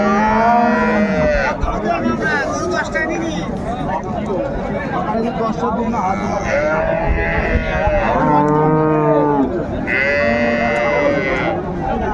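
Cows and calves moo repeatedly at a busy rural cattle market in Dinajpur, Bangladesh, with long drawn-out calls rising over constant crowd chatter and nearby talk.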